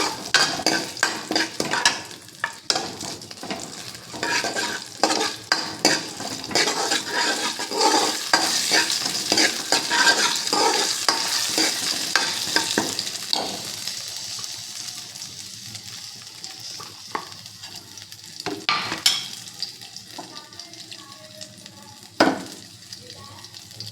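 Asafoetida tempering frying in a pan, with a steady, close-up sizzle under frequent metal stirring and scraping. The sizzle eases toward the end, where a few sharper clinks stand out.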